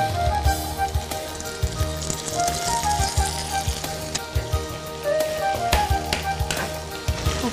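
Chopped tomatoes fry with cashews and sesame seeds in hot oil, giving a dense, continuous sizzle and crackle with scattered small pops and taps, steady and close throughout.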